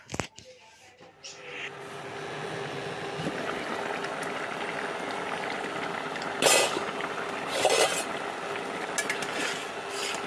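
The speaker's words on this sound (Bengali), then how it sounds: "ঝোলটা ফুটে উঠলে মাছগুলো দিয়ে দিচ্ছি" Fish curry with potatoes simmers in a pot. A soft, continuous bubbling hiss holds steady for about ten seconds, with a few louder clatters and brief bursts partway through and no talk.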